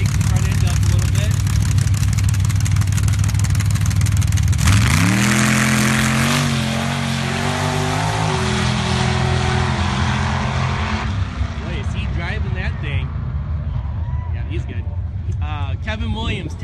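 A Jeep CJ5 engine revs hard at a sand drag strip race, a loud roaring drone that climbs in pitch and sustains, with crowd and announcer noise mixed in.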